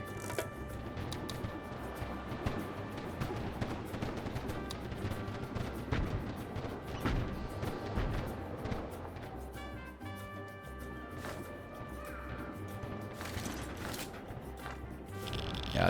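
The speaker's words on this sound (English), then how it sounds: "And we also have the fighter jets that only should take a second to get here." Fighter jets bombing rebels in the city-builder game Tropico 6, a dense rumble of distant booms and crackling blasts continuing for many seconds, moderately loud and busy with no talking.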